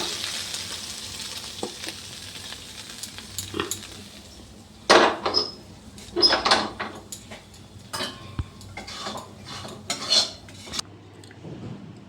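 Cooked chicken kosha being lifted out of a wok after the gas is switched off, heard as a series of sharp metallic scrapes and clanks of a spoon against the pan, irregular and close, with quiet pauses between.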